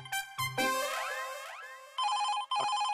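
Mobile phone ringtone for a work call, a bright synthetic electronic melody with bouncy rising tones followed by repeated chiming bursts, clear and alone with no talking.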